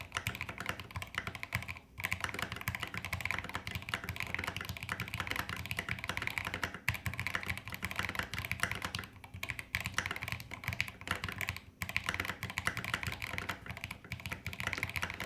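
Fingers typing quickly on an HB85 custom mechanical keyboard, a continuous close clatter of keystrokes with brief pauses, heard alone without talk.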